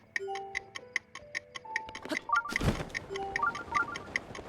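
Steady, clock-like ticking in The Legend of Zelda: Breath of the Wild runs under chiming game tones, broken midway by a brief heavy thump, then continues at the same even pace.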